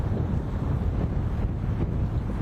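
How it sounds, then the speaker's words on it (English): Strong wind from Tropical Storm Chantal at Myrtle Beach, a steady loud roar buffeting the microphone with low rumbling gusts and no talk over it. "It is so windy that my eyes are wandering."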